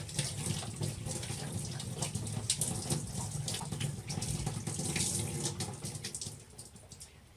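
Dirty water from the tank of a Bissell 3624 Spot Clean Professional portable carpet cleaner being poured into a sink, a steady close splashing stream lasting several seconds, with no talking.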